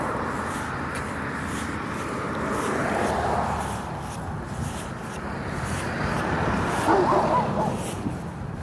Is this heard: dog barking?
yes